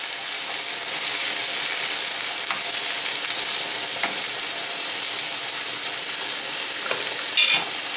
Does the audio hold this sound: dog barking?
no